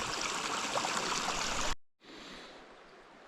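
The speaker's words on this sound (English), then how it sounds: "It's a freshwater stream, and then it disappears. It goes right into this hole" Freshwater stream on the Bay of Fundy coast pouring into a hole in a rock wall: a steady, fairly loud rushing wash that cuts out abruptly, then returns softer and more distant.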